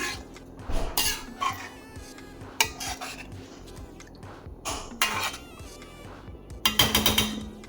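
A metal spoon scraping and clinking inside a pot of gorakalu curry while it is stirred, irregular close scrapes and knocks with a louder cluster of clatter at the end and no talking.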